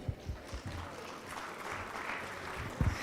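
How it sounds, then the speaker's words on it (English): Audience applause at the Old Starehian Society gala dinner, a soft, distant patter of clapping across a large room, with a few low thumps and some background murmur. "A warm round of applause for Glory."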